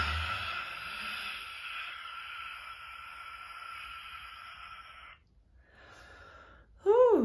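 A lion's breath yogic exhale, a long forceful breathy rush lasting several seconds, then a quiet pause and a brief sharp tonal sound at the end.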